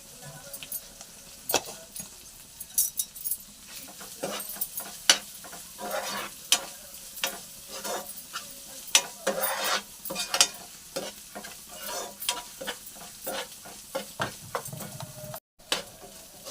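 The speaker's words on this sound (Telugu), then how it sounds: "ఇది పచ్చివాసన పోయే వరకు వేయించుకుందాం" Liver with turmeric frying in a pan, with a steady low sizzle broken by frequent sharp scraping and clinking stirring strokes at an irregular rhythm, close and clear throughout.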